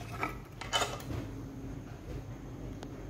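Japanese aluminum Riken pressure cookers, 6-liter and 4.7-liter sizes, being handled: a few faint metallic clinks and knocks over a low room hum, with no talking.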